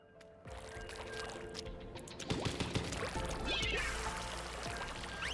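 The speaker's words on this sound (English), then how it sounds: "quick swim through there" A character swimming through water in a video game produces continuous sloshing and splashing that swells partway through and stays steady and fairly close to the end.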